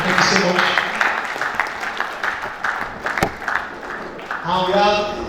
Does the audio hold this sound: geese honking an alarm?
no